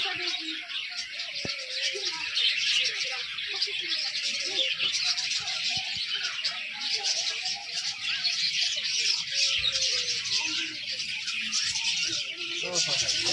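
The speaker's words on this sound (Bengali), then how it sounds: "পাখি।" Birds chirping and cooing in a park, continuous bright tweets and calls, some pigeon-like coos, with people talking now and then in the foreground.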